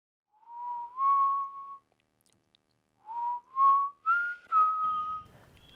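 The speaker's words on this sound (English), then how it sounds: "This is a delightful whistling noise" Delightful melodic whistling, a few sustained rising and falling notes in two phrases separated by a short pause, clear and close with no other sounds.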